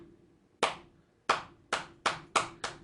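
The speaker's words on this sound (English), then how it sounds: "Like a slow clap." A slow hand clap, six sharp single claps, the first alone and the rest coming in a loose slowing-then-quickening rhythm, close and crisp over near silence.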